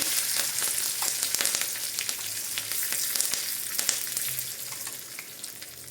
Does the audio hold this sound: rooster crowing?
no